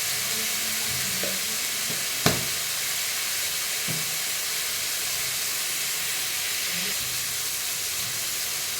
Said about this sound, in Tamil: சீரகம் ஒரு ஸ்பூன் சேர்த்துக்கலாம்